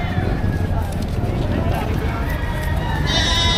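Goats bleat at a Philippine livestock market where goats, cattle and carabao are traded, their calls rising over steady crowd chatter and people talking nearby.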